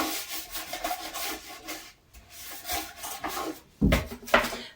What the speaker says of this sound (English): I'm going to get all up underneath the brim of this bowl with the Lime Away. And again, I am going to scrub some more.